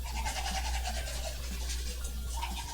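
A toothbrush scrubs rapidly back and forth against teeth, a steady close-up brushing rhythm lasting throughout without speech.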